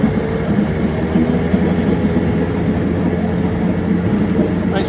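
A serviced 1976 Johnson 9.9 outboard motor idling steadily after a cold start, a close, even mechanical drone with a continuous buzzing hum that stays constant throughout.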